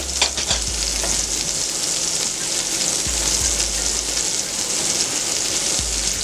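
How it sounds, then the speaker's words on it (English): Mushrooms frying in a hot pan, with a steady close sizzle and crackle and a few light stirring knocks, with no talk over it. "Throw in my mushrooms."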